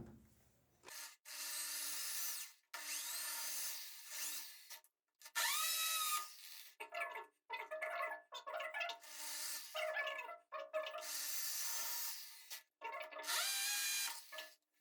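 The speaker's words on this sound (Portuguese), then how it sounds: "Agora vamos fazer os furos desse outro lado." Electric drill boring holes through a ceramic-tiled bathroom wall to mount a grab bar, several loud whining bursts of varying length separated by short pauses, with the motor pitch rising and falling, close by and without talk.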